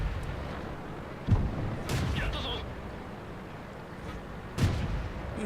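Tank cannon shots in the World of Tanks video game, a Chi-He tank in battle: two muffled booms a few seconds apart over a constant rumbling engine bed.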